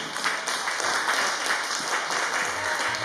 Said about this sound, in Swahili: Pigia makofi mazuri.